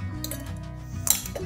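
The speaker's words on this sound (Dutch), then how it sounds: "We gaan dan beginnen met een paar ijsblokjes." Ice cubes drop into a glass that already holds lime slices, giving a quick run of close clinks and one sharper clink near the end.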